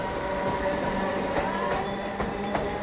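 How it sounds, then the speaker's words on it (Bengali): A train in a Bengali audio drama speeds along the rails after leaving the shunting yard, giving a continuous loud rumble with faint rhythmic clicks and brief metallic squeals. "গতি বাড়িয়ে ট্রেন জোরে ছুটতে শুরু করল।"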